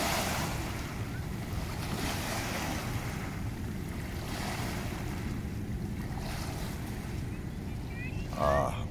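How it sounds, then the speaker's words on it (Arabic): Ocean waves wash and surge continuously against a Vancouver shore as the tide comes in, with wind buffeting the microphone and a brief voice near the end. "المد الآن، المد أمواج."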